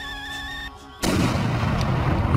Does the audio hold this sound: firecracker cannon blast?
yes